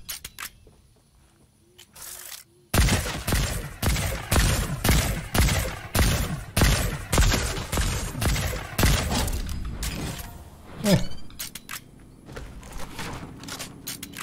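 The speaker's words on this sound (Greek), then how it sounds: "Με πυροβόλησε κάποιος." Rapid bursts of video game gunfire, a run of loud, closely spaced shots in fast rhythm that carries on for several seconds before thinning into scattered reports, with a quieter stretch at the start.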